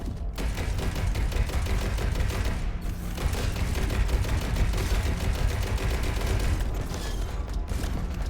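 Rapid video game gunfire rattles continuously in thick, loud bursts, with a brief dip near three seconds and short mechanical clicks toward the end.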